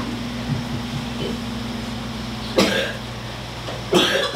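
Two sharp, close coughs from a person who has just drunk poisoned wine break the near-silence about a second and a half apart, over a low steady electrical hum.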